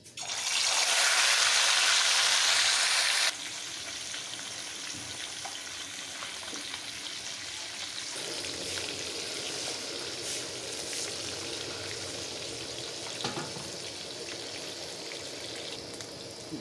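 Fish frying in hot oil for an Odisha machha jhula, a steady dense sizzle and crackle that starts loud and bright, then settles to a softer continuous hiss with occasional pops, with no talking.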